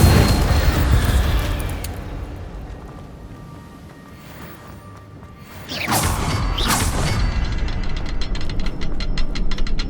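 An Incendio fire spell cast in Hogwarts Legacy: a loud crashing burst at the start fades down, then a fresh whooshing blast of fire flares up and keeps roaring to the end.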